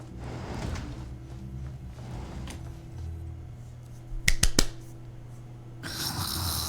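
Loud, close snoring from a character in Genshin Impact drones on as steady rasping breaths, broken by a few sharp snorts in the middle and a brighter burst near the end.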